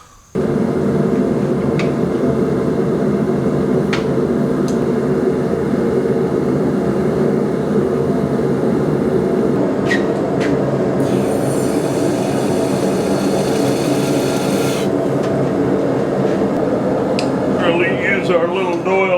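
A blacksmith's forge heats steel stock with a loud, constant roaring blower rumble, joined midway by a higher hissing rush of air, with brief clinks and a voice near the end.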